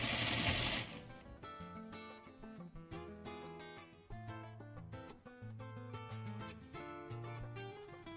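A sewing machine chain-stitches fabric face mask tubes at a 1/4 inch seam allowance, running loud and close in sustained whirring bursts with brief pauses, after a short noisy rustle at the start.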